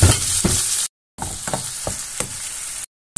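Chopped onions and green chilies frying in a pan with fish curry underway: a loud close sizzle with spatula scrapes and stirring clicks, cut by two brief silent gaps.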